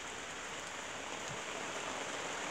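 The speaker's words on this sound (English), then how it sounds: "It's a rainy day here" Steady rain falls on a rainy day outside a sheltered spot while a car with black paint is treated with a ceramic speed wax, a constant dense hiss with no speech or other sounds standing out.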